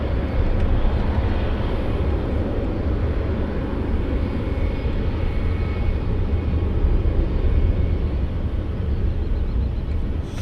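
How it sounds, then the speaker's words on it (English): A Wizz Air delivery aircraft roaring past at Luton Airport in the early morning, a loud, steady broadband jet-engine rumble that holds constant and close throughout with no voices. "this is the delivery aircraft from Wizzair"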